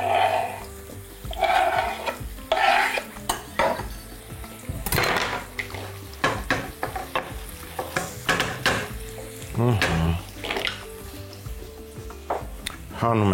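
Chopped bell pepper and vegetables frying in a pan for beef and bulgur soup: intermittent sizzling with scraping and clattering stirring strokes and knocks against the pan, a voice talking in between.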